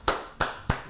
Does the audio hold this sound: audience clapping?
yes